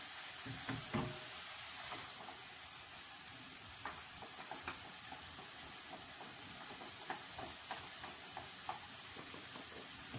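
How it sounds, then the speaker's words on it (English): Onion and tomato paste frying in a pan gives a faint, steady sizzle and crackle, with light scraping taps from stirring scattered throughout. "And fry it for 10 minutes."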